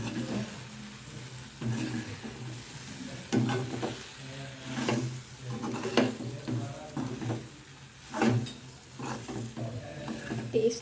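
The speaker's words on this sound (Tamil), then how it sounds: "நல்லா மிக்ஸ் பண்ணி விடுங்க" Boiled pasta being stirred into a sauce mixture in a pan, with repeated soft, wet scraping and squelching strokes in an uneven rhythm over a low background hum.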